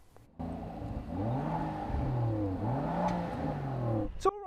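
A Rolls-Royce Cullinan engine hums and rises in pitch as it revs up smoothly, steady and fairly quiet, then cuts off with a brief click at the end.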